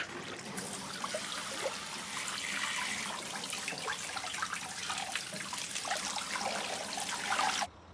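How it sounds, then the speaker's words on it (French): Shower water runs steadily and close by as a man lathers shampoo into his hair, a continuous hissing spray with small splashes that carries on throughout and cuts off abruptly at the very end. "Il verse du shampoing dans sa main et se lave les cheveux"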